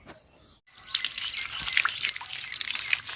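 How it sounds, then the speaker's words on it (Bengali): Water splashes and trickles as fresh coriander leaves are rinsed outdoors, with soft irregular drips and splashes close by after a brief pause, with no talking. "এই ধনিয়া পাতাটা সুন্দর করে ধুয়ে নিলাম।"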